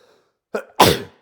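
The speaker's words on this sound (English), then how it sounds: "And I got the sneezes." A single close, loud sneeze: a quick sharp inhale followed by an explosive burst.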